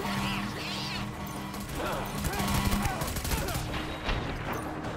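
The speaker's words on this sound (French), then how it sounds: "Oh, la mitrailleuse." Machine gun fire rattles in rapid bursts amid explosions and crashes in the video game Death Stranding Director's Cut on PC, loud and close, with a player occasionally talking over the gameplay.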